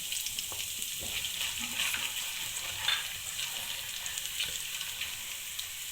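Fennel, fenugreek and nigella seeds fry in hot oil for a minced meat and peas curry, giving a soft, steady sizzle with faint stirring scrapes throughout, fairly quiet and without talk.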